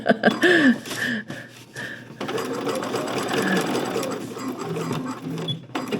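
A sewing machine restitches old seams on an overnight bag in short mechanical runs, loud and close, stopping and starting, with a brief cough and some talking between bursts.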